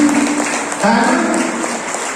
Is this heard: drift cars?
no